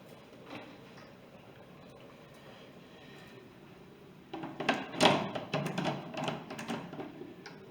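A metal lid is handled and fitted onto a pressure cooker pot while making beef stroganoff, with a cluster of close clanks, thunks and scraping knocks after a quiet stretch.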